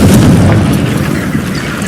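A Confringo blasting spell in Hogwarts Legacy explodes with a loud, deep boom, a short thick burst of low rumble that fades slightly over two seconds.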